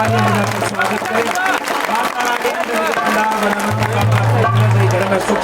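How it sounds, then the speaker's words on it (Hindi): An audience claps loudly and continuously at a village night jagran devotional event honoring a mother goddess. The applause runs over sustained musical tones and a voice talking. "एक बार जोरदार तालियां बजाकर स्वागत करें।"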